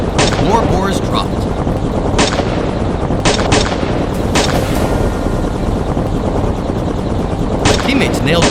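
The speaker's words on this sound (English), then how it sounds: "my brother's shots rang out from the other side" Gunshots crack out during a wild boar hunt, several sharp reports spaced irregularly over loud, dense background noise, some close and some farther off.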